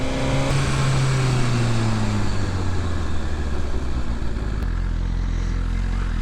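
A 2019 Suzuki GSX-R1000R motorcycle revs in fifth gear under the rider, its engine note falling and rising loudly and continuously with wind rush, then settling into a lower steady drone.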